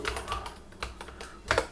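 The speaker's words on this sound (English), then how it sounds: "I'm just going to type Ubuntu" A few quick keystrokes on a computer keyboard, close and fairly quiet, tapping out a short word in irregular clicks with brief pauses between them.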